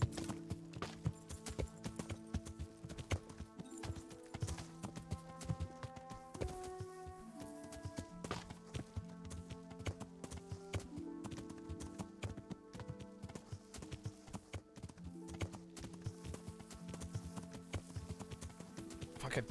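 Horse hooves clip-clopping in the medieval role-playing game Kingdom Come: Deliverance, a steady rhythmic trot running throughout under a loud layered orchestral music score.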